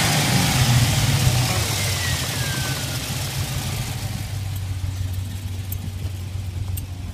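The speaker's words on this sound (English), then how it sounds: "We're gonna step on the gas, let you hear the motor, let you hear the exhaust." A 2006 Pontiac GTO idles nearby with a deep, steady exhaust rumble, a slight lift in engine note early on before it settles back into an even idle.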